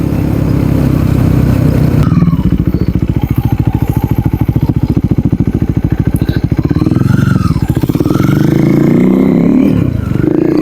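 A KTM Duke 390 single-cylinder motorcycle pulls hard under acceleration, its loud, rapid engine thrum rising and falling with shifts over steady wind rush.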